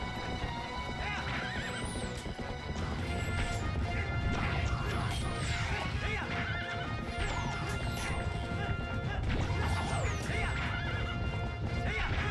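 Horses in the video game Twilight Princess, startled by bombs, with loud repeated neighs and whinnies over galloping clip-clop hooves and crashing impacts, continuous and dense throughout.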